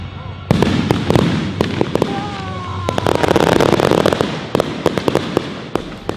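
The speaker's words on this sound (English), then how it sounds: "it will overcharge your battery and it will explode your battery" A rapid burst of sharp pops and crackling bangs, like an inserted explosion effect for an overcharged battery on a solar-powered electric bike, continues loud and dense for several seconds over a low background rumble.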